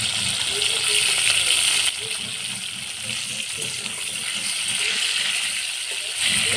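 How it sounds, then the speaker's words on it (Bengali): Salted potato pieces frying with turmeric in hot oil, a steady close sizzle that runs throughout with a brief dip partway, and faint background voices underneath. "টুমো টুমো করে কেটে রাখা আলুটা লবণ মাখিয়ে রেখেছিলাম এবার ভেজে নেব হলুদ দিয়ে দিলাম"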